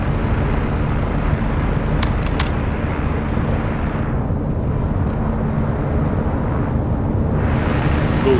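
Helicopter in the Call of Duty Modern Warfare II campaign, a loud continuous rotor-and-engine roar that fills the scene without a break, with brief sharp clicks early on.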